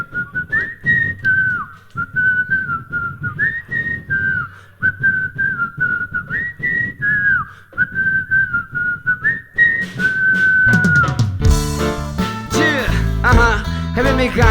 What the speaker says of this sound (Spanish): tengo este silbido, y más o menos sonaba así